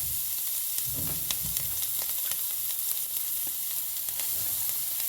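Carrots dropped into a hot pan for cabbage momo filling sizzle with a constant close, bright frying hiss, broken by a few stirring scrapes and soft clatters near the start.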